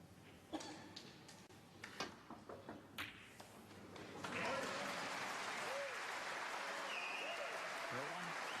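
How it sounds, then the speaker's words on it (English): A few scattered snooker sounds of balls knocking at a German Masters match give way to warm, steady audience applause that builds and holds, with commentary voices over it. "He's getting some applause"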